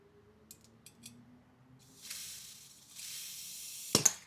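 A quiet hiss of cleaner spraying through a fuel injector from an Audi A6 C7 3.0 TFSI, running in two stretches and ending with a brief sharper burst, after a few faint clicks.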